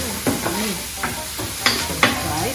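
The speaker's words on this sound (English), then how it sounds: "so that you can fry the onions" Onions and garlic fry in oil in a Saladmaster pan with a steady close sizzle, broken by several scraping stirs of a utensil against the pan.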